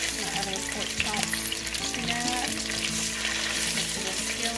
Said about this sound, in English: Now I'm just going to add my other pork chops.